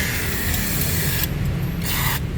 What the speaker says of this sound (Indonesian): kita semprotkan karbon K1 nya.